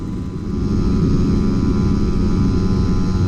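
A Honda Eve Pax small motorcycle engine drones steadily at close range, a constant low buzzing rumble that swells slightly after the first moment.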